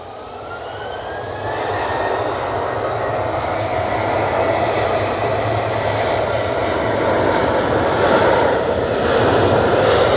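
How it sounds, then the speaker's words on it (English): A jet aircraft makes its takeoff roll at Manchester Airport during a storm: a loud, rising roar of jet engines builds steadily over about ten seconds, close and continuous with no talking. "Jet 273 on the roll."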